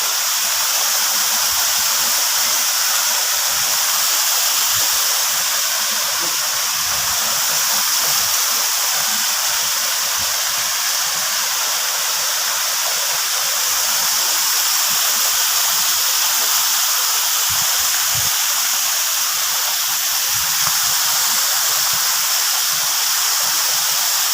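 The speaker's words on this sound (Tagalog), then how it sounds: "makita nyo ilog. Ito yung Haunted River na sinasabi" A river rushes in a loud, constant broadband roar like a waterfall or rapids, close to the microphone and steady throughout, with no talking.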